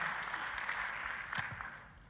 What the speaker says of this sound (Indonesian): Kita kasih tepuk tangan yang paling meriah buat Yesus Tuhan kita.